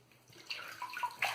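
Shaving razor rinsed under running tap water, a brief, soft splashing stream that swells slightly toward the end, heard alone.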